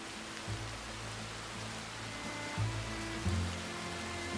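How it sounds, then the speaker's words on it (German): Steady rain in the video game Red Dead Redemption 2, a soft even hiss throughout with a low ambient hum beneath and a few brief low thumps. "Regnet."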